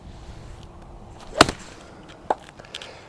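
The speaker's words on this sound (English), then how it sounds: "I absolutely crushed that. I hit that dead center of the club face." A golf club hits a ball dead centre of the face with a single sharp, crisp crack against quiet outdoor background, followed by a fainter click.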